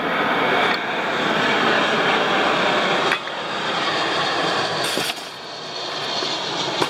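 An airplane roars overhead near an airport, a broad sustained engine rush that stays loud throughout, heard outdoors with no talking.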